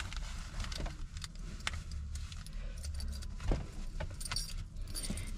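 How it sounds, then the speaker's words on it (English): Car keys jangle and rattle close by while they are searched for in a Ford Fox body Mustang, with repeated metallic clinks across the moment and a faint background rumble. "Let me find the keys."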